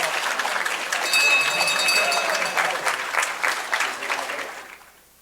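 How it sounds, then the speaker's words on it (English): An audience at a school board meeting gives a round of applause, a dense burst of clapping with a few high whistle-like tones, holding steady and then fading out near the end. "Let's give them another round of applause."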